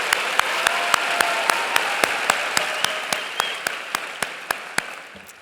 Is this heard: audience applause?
yes